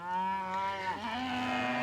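Cattle low by a field gate beside a grassy pasture, one long sustained moo that dips and wavers midway and then holds steady, close and fairly loud, ending with a brief knock.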